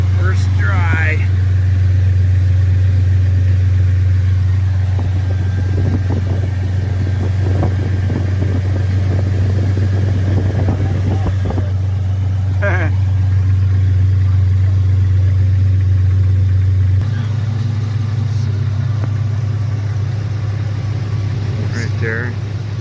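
A Jeep Cherokee XJ engine runs at a steady, loud idle close by, with a low constant drone throughout and people talking over it at times.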